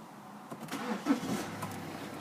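A diesel BMW 320d SE coupe with automatic gearbox starting up, a brief crank catching into a low idle, heard close by with some broadband noise and no talk.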